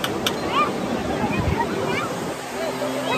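Ocean waves wash onto Marina Beach in Chennai at night, a constant rolling surf with wind buffeting the microphone and muffled voices faintly underneath.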